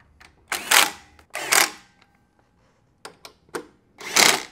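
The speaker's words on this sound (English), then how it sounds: "I'm just going to retighten the bolts." Bolts on a Harley-Davidson batwing fairing are retightened with a ratchet, giving several short, loud whirring clicks in separate bursts with pauses between, close by and without speech.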